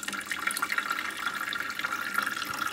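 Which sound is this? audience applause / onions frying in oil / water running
water running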